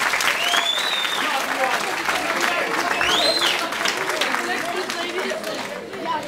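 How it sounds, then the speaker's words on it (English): Audience applause at a children's show, steady dense clapping throughout with crowd chatter and whoops mixed in, fading slightly at the end. "A very big round of applause"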